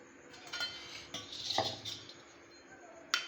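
A spoon beats three eggs in a bowl for bread pakoda, making soft, irregular clinks and scrapes against the bowl. A sharper clink sounds near the end.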